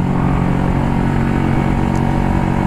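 A Yamaha R15 V3 motorcycle rides along a road with a loud, steady engine drone and rushing wind noise, heard up close and continuous.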